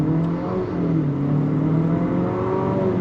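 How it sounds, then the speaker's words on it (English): A 2025 Nissan Murano Platinum with all-wheel drive and a VC turbocharged engine, in sport mode, accelerates hard on throttle. It gives a steady, loud engine drone with harmonics that climb slowly and stay close throughout. "the VC turbocharged engine actually works best when you're going on throttle"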